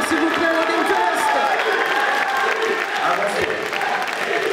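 A crowd applauds loudly at a Gamefest cosplay contest prize-giving in Charleville-Mézières. The clapping is steady and continuous throughout, with crowd voices and cheering mixed in.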